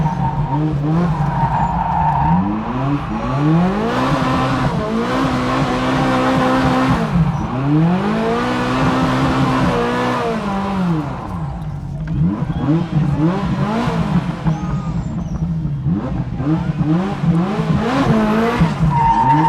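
A Ferrari spins donuts at a charity car event, its engine revving hard while the tires squeal and skid in long rising and falling sweeps, loud and close.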